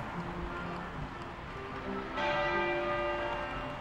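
Westminster Abbey's church bells toll for Prince Philip, Duke of Edinburgh, with steady overlapping strikes and ringing tones that grow louder and fuller partway through, heard alone without talk.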